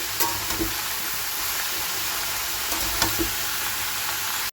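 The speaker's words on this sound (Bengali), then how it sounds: "এই যে পালং শাকের সবজিটা দিয়ে দিলাম এবার এটা একটু ভাজতে থাকবো" Spinach vegetable fries in a pan with a steady, close sizzle, broken by a few light knocks of a utensil against the pan and a sharp clatter at the very end; nobody speaks.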